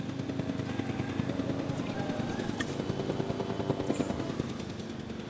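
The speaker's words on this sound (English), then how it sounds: "Selected and release this dino via airlift to this place." Rhythmic thudding rotor chop of a helicopter airlifting a dinosaur in Jurassic World Evolution 2, loud and continuous, with game effects layered over it.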